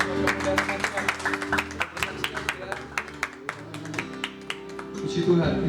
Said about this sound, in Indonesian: coba kita kasih tepuk tangan buat kemuliaan nama Tuhan